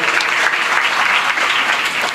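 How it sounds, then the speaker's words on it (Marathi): An audience at a kirtan gathering in Balaji Nagar, Umred claps together in dense, continuous applause that stays loud and even from start to finish. "एक टाळी आपण वाजवली पाहिजे."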